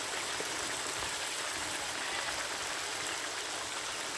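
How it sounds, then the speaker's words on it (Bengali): Water pours steadily into a cooking pot for chicken pulao in a village kitchen, a constant splashing rush that neither pauses nor varies. "পানি দিয়ে দিলাম"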